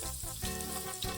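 Sliced papaya, green plantain and potato sticks frying in hot oil, giving a steady close sizzle and crackle with no talking.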